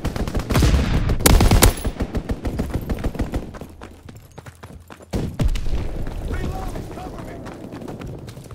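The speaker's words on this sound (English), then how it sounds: "Enemy strafing run incoming!" In the video game Call of Duty WWII, an enemy aircraft's strafing run lets loose loud, rapid bursts of gunfire, which fade into scattered shots and then return as heavy rattling fire.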